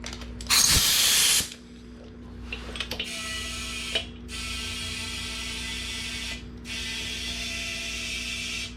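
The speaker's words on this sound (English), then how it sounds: "Get some air in it." Compressed air hissing into the front tire of a BMW K1600 motorcycle: a loud close burst, then steady pulsing hiss with brief pauses as the air hose is reapplied.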